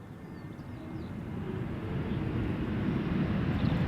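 Airbus A320neo landing on arrival from Bilbao, a steady broadband jet roar with a deep low rumble that swells gradually louder as the aircraft nears, with no voices.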